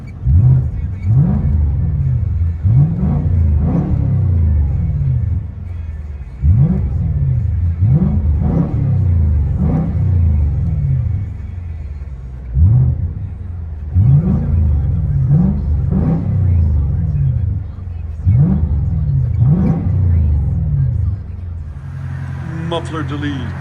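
Heard from inside the cabin of a 2008 Volvo S80 4.4L V8 with a muffler delete and black tips, the engine is blipped repeatedly in loud, booming surges that climb and drop back to a deep idle rumble.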